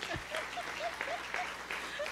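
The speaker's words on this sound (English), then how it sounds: "I'll applaud that." A conference audience clapping steadily in applause, moderately distant, with a dense patter of hands throughout.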